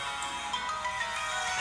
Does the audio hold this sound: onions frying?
no